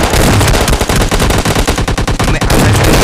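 Rapid automatic gunfire bursts in a battle royale shooter game, loud and close, dense volleys firing continuously for about three seconds with no talk.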